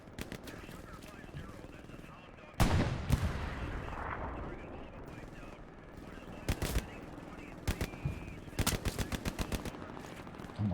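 Gunfire in a competitive Hell Let Loose match: a heavy burst of shots, then scattered single cracks and a later rapid string of rounds over a rumbling battlefield background.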